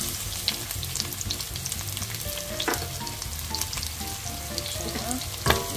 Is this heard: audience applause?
no